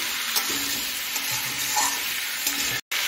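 Spices (turmeric, cumin powder, red chili powder and Kashmiri chili powder) sizzle steadily in a pan for chechki, with soft scraping stir strokes and occasional clinks close by, one brief dropout near the end.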